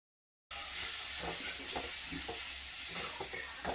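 Ground coconut paste for anchovy peera sizzles in a pan with sautéed onions. The steady frying hiss starts abruptly after a short silence and carries on close and loud, broken by soft stirring scrapes.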